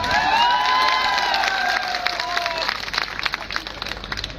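Applause and cheering from a crowd at a political gathering, dense clapping that fades into scattered claps over a few seconds, with shouting voices mixed in.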